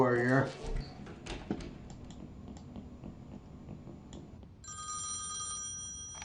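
A telephone rings at a bank in Thimbleweed Park: a bright electronic trill enters near the end, steady and clear, after a voice speaks briefly at the start over faint ticking and clicks.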